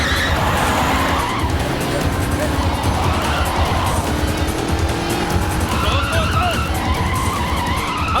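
Car tires skid and squeal during a chase scene in a Hindi-dubbed South Indian action movie, loud and sustained over a roaring engine, with excited voices talking over the noise.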